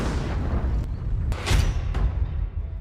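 Explosions and fighting in the city of Mariupol during war: several sharp booms and bursts over a dense, roaring rumble, loud and close.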